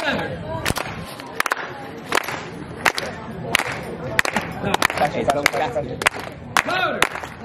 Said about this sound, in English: give a nice hand clap, clap, clap